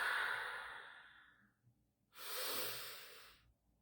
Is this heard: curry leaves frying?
no